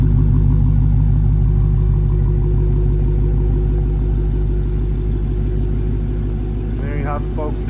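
A 2022 Dodge Challenger SRT Hellcat RedEye Widebody with a 797 hp engine, heard from behind the car as a loud, steady, deep exhaust rumble that goes on throughout, with a brief higher whine near the end.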